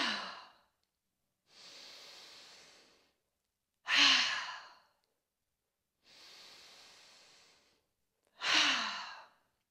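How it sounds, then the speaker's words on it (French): Slow yoga relaxation breathing, air drawn in through the nose and pushed out through the mouth, alternating soft inhales and stronger exhales, close and alone in silence. "Puis venir inspirer 3 fois par le nez et expirer 3 fois par la bouche."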